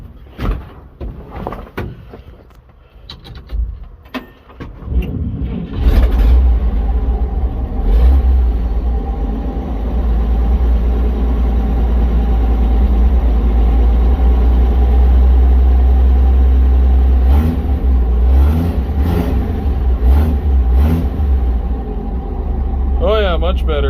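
A 1952 Chevrolet engine starts after some clatter and settles into a loud, steady idle with a deep low rumble, running close by just after an oil change, with voices over it.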